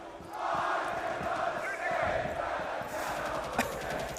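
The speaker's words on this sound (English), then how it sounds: "The chants are in full force." Esports arena crowd at the Manchester Major 2024 Dota 2 grand final chanting in unison, a dense, sustained roar of many voices with rhythmic pulses, loud and steady throughout.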